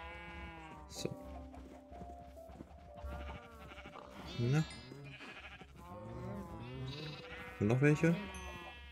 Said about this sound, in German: Die Schafe, die sind hier fleißig am Futtern.